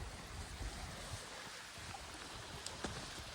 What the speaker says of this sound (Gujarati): નદી ચાલુ છે.